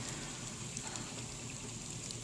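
Steady hiss of hail and freezing rain striking and bouncing outdoors during a thunder snowstorm, dense and continuous with faint scattered ticks throughout, no voices.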